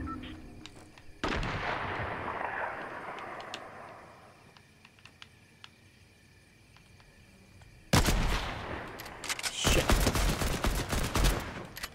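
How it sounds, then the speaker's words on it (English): Fortnite gunshots crack loud and near in a sudden volley, fade into a lull, then return as a dense burst of rapid shots and blasts. "Okay, shots fired this way."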